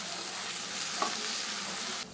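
Broccoli bhaji is stirred in a hot frying pan, its continuous sizzle broken by a brief scrape of the spoon near the middle, heard up close with no talking.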